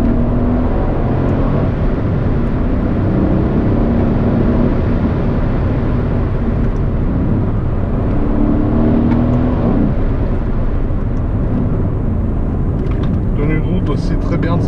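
A turbocharged Mercedes C63 AMG with 510 horsepower to the rear wheels accelerates hard, producing a loud, continuous engine roar and whoosh that holds steady throughout.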